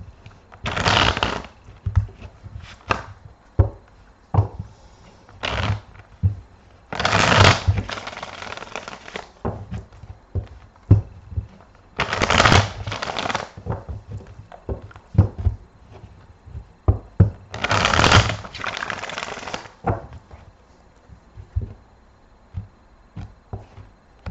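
Tarot cards riffle and slap together in several quick bursts, close by, separated by quieter rustling and handling of the deck.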